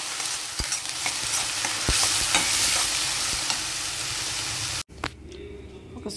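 Country chicken curry with onion paste and turmeric sizzles loudly in a pan while a spoon scrapes and stirs with irregular knocks, the frying hiss steady and close until it cuts out near the end.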